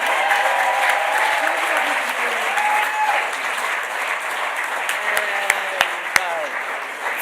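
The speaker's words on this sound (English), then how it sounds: "A round of applause. Let's keep the applause going." Audience applause at a forces families awards ceremony, dense and steady for several seconds, with a few sharper individual claps standing out near the end and faint voices underneath.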